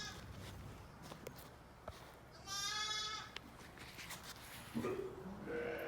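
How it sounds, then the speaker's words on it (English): Newborn lambs bleating in a cold lambing pen, a couple of thin wavering calls rising over low shuffling and rustling of sheep moving nearby. "I keep hearing lambs"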